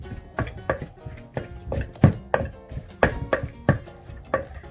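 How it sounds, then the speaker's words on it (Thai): A heavy wooden pestle pounding papaya salad in a mortar in a backyard kitchen, a steady series of firm dull thuds, each with a light clack, roughly two to three per second, close up and with no talk. "ตำตำให้แรงแรง สากใหญ่ใหญ่แข็งแข็งตำแห้งแห้ง"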